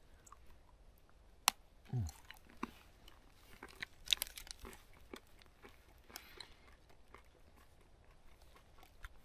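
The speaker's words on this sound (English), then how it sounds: "It's got a little crunch in there from tiny pieces of cornflakes which they've added." Someone biting into and chewing Swiss Army milk chocolate with cornflake pieces, a few sharp crunchy bites followed by quiet, irregular mouth sounds up close in a fairly silent room.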